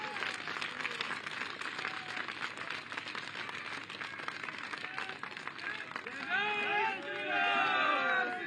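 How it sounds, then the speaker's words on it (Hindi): A large crowd at a public event in Lucknow claps and cheers in sustained applause. It swells louder near the end under a loudspeaker voice with echo. "एक बार जब उठा के हाथ या ताली बजा दीजिए"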